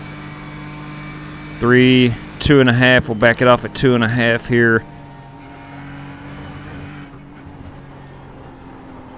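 A NASCAR race car engine at Daytona in the iRacing video game holds a steady low drone throughout, with someone talking over the middle of it.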